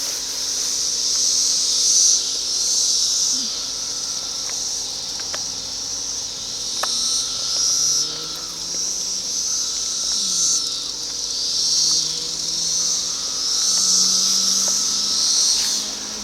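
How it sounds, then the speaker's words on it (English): Chorus of 17-year periodical cicadas along a rural road near Ayersville, a steady, loud, high-pitched droning buzz that swells and ebbs continuously throughout, with no talking. "lots more numbers, cicadas."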